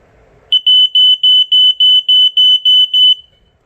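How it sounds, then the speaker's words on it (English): A BRK 86RAC smoke alarm sounds its test tone: ten loud, shrill, evenly spaced beeps in quick succession, clear and close, with no talking over them. "as you can hear, it does that classic 4-6 beeping that these did"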